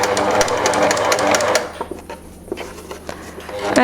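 A sewing machine stitches rows of shirring with elastic thread, a rapid mechanical whirr of the needle that stops partway, followed by quieter clicks and handling of fabric.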